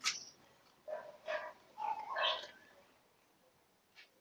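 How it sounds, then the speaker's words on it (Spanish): Puppies give a few high, soft yips and small barks nearby, in an irregular cluster followed by quiet, with one faint yelp near the end. "Aquí tenemos unos perritos."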